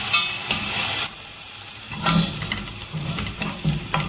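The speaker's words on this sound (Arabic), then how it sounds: "هحمر بقى الثوم بتاعي" Garlic frying in a pan while cooking sprouted fava bean soup gives a steady, close sizzle with stirring scrapes, loud at first, dipping briefly, then returning with small pops.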